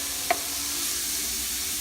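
Ginger sizzles and fries in a hot pan while being stirred, a steady close hiss with one brief clink of the utensil near the start.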